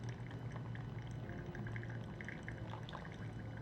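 Water poured in a steady stream over coffee grounds in a Chemex brewer, a continuous close trickling splash with faint dripping, with no talk.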